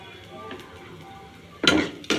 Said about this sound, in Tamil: அதுவும் கொஞ்சம் போட்டு நல்லா வதக்கிடலாம்.